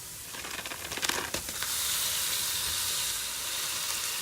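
Ground beef hits browned onions and garlic in a Ninja Foodi and sizzles loudly. A few crackles and clatters come first, then a steady, dense frying hiss continues close up to the end.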